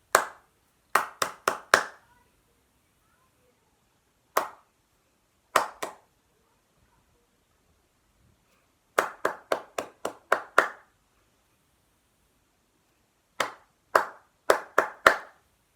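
Hand clapping in short rhythmic bursts during a primary school recorder lesson warm-up, with clusters of crisp claps separated by silent pauses as patterns are clapped and answered.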